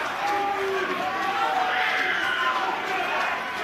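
Loud, dense crowd roar filling a UK fight arena during a bout, a continuous wash of cheering with no break.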